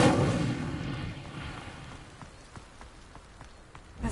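Incendio fire spell cast in Hogwarts Legacy, a loud rushing burst of flame at the start that fades into a softer crackle with scattered sharp pops, no voices.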